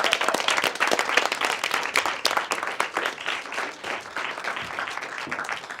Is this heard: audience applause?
yes